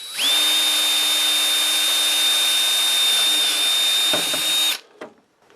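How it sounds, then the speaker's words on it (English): A power drill runs at a steady high-pitched whine for about four and a half seconds while boring a hole, then cuts out abruptly with a few faint clicks and clatter afterward. "Alright, so time to drill this out."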